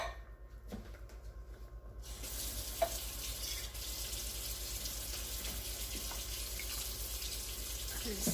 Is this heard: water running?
yes